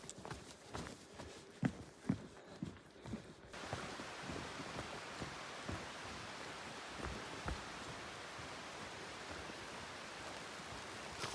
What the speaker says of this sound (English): Well, y'all, it's raining.